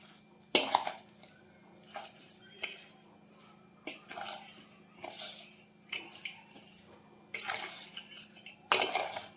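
A spoon scrapes and clinks against a bowl while instant mango pickle is mixed, giving irregular bursts of clattering and stirring separated by quiet pauses, close and moderately loud.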